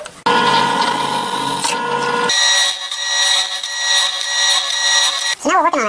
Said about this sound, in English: we're going to drill our second set, and that is going to be with a 3/16 inch drill bit spaced 1 inch apart